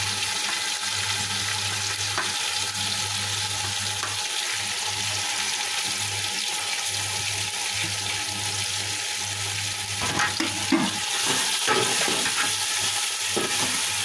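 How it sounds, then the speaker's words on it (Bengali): Long beans and carrots frying in a pan for fried rice, making a continuous close sizzle with low hum underneath and a few clattering stirs and scrapes near the end. "বরবটিগুলো দিয়ে দিলাম, গাজরও দিয়ে দিলাম, সব কিছুই দিয়ে দিলাম, দিয়ে এখন একটু ভেজে নেব।"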